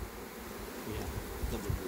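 A big honey bee swarm caught on a fir tree hums steadily while being moved up into two hive boxes, a dense, continuous buzz close by with slight swells in loudness.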